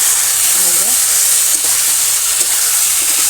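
Tengra fish and potatoes sautéed together in a pan in a village kitchen make a loud, continuous hissing sizzle with faint stirring, while a voice murmurs briefly in the background.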